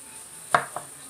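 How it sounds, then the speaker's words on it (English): A knife cuts through tomatoes on a cutting board, making two short, distinct chopping thuds a moment apart, close up against quiet background. "Now you want to slice your tomatoes like so"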